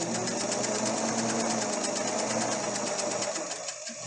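A sewing machine stitches fabric for patchwork under pedal control, a steady, fast mechanical whirring drone held close and even, easing slightly at the end.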